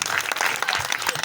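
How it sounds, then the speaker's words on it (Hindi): Listeners at a Shrimad Bhagwat Katha religious discourse applaud loudly, a thick, continuous rush of many hands clapping close by. "इसलिए जोरदार ताली बजाएं।"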